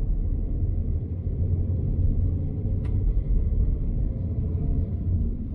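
A VW Caddy van on the road gives a steady low engine drone and road rumble, constant and close inside the cabin, with one faint brief tick partway through and no talking.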